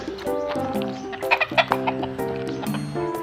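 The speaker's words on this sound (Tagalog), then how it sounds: "Hindi ko alam kung anong uri ng mga manok yan." Several gamecocks cluck and chatter close by, overlapping calls rising and falling continuously with a few sharper squawks in the middle.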